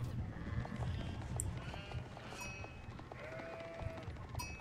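Sheep bleat repeatedly over busy ambient game noise during an Age of Empires IV match, the calls moderately loud and overlapping with clicks and other in-game sounds.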